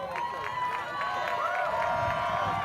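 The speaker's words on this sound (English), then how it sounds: "Keep that clap going" A crowd claps in a steady rhythmic beat at a strongman record attempt on the Rogue anvil grip, with cheering and shouts in the background.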